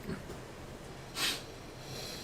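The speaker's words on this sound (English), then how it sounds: "Now, everybody is sniffing." A single short, quick sniff close by, isolated in a quiet room with faint background hiss.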